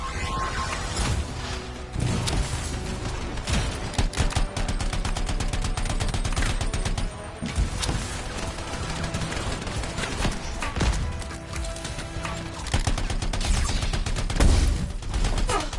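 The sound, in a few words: gunfire at camp turrets in the video game Anthem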